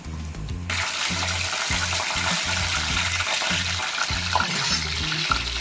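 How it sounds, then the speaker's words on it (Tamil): Vadagam frying in hot oil for cumin kuzhambu, a loud, dense, continuous crackling sizzle close by that bursts in suddenly and holds steady, with faint low clatter of a utensil underneath. "வடகம் நல்லா பொரிஞ்சதும் வெங்காயம் சேர்த்துக்கலாம்."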